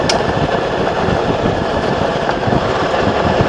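Motor scooter riding slowly down a gravel road, giving a loud, steady engine drone mixed with crunching tire noise and wind rumble throughout.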